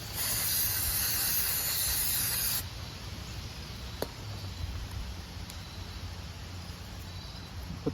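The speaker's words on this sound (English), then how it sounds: "Just gonna blow up the emulsion tube a little." Compressed air blasts through the emulsion tube of a Toro Recycler lawnmower carburetor, a loud, close, steady hiss lasting about two and a half seconds before cutting off, leaving quiet background noise with a few faint clicks.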